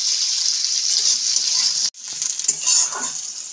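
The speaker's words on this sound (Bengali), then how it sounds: "করলাগুলো ভেজে নিয়েছি," Bitter gourd slices frying in oil make a continuous hissing sizzle, close and fairly loud, briefly cut off for a moment before resuming with some stirring noise.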